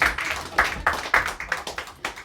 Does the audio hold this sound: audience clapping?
yes